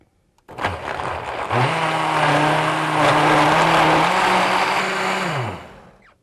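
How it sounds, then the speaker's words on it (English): A high-powered blender whirs through a spinach and apple smoothie, starting with a thunk, then a loud, steady motor whine that rises slightly in pitch midway before cutting off, close up and with no talking. "This one's pretty high powered, but any blender will do this job. You just might need to blend it longer."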